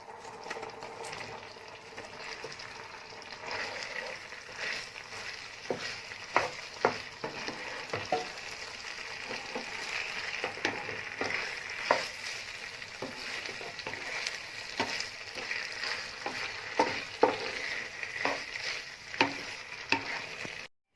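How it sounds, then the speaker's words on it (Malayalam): Fried cauliflower being stirred into bubbling gravy for Indo-Chinese chilli gobi, with a steady sizzle and repeated scraping, clacking stirs of a spoon against the pan, close and continuous with no talking. "ഇനി ഇതിലേക്ക് നമുക്ക് ഫ്രൈ ചെയ്ത് വെച്ചിരിക്കുന്ന കോളിഫ്ലവർ ചേർത്ത് കൊടുക്കാം."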